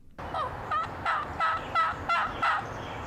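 A series of rapid yelping turkey calls, about six short bursts in steady rhythm, loud and close, imitated by a world champion turkey caller.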